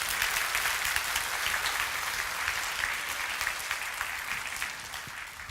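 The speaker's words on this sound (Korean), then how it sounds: "여러분 뜨거운 박수로 맞아주시기 바랍니다." Warm congregation applause in a Korean church sanctuary welcoming a missionary, dense and sustained for several seconds, evenly loud and gradually easing, with no talking over it.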